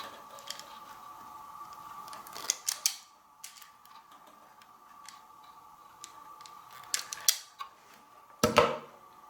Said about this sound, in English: Not much wire to work with there. I'm going to strip them a little bit more.